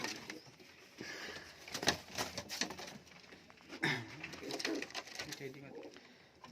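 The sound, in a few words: Giribaz pigeons cooing in a loft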